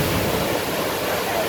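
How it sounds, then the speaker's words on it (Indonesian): Luaha Ndroi waterfall in North Nias roars as a dense, steady rush of falling water heard from close by, loud and continuous with no pauses. "Ini situasi lantai 1 air terjun Luandoi"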